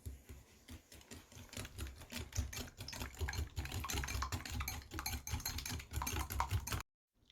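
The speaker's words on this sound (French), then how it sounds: "Je vais venir rajouter le sucre. Hop. Et je vais venir battre tout ça." Egg yolks and sugar being whisked by hand in a bowl for a ginger-lemon tart, with a steady, busy rapid clicking and scraping rhythm that runs close up for about seven seconds before stopping abruptly.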